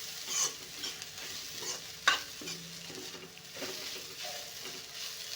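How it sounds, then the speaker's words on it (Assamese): Raw banana and paneer curry stir-fried in a pan, with soft continuous sizzling and occasional spatula scrapes and clinks against the pan. No one speaks. "এনেকৈ এয়া অলপ সময় লৰাই এনেকৈ ভাজি লৈছোঁ।"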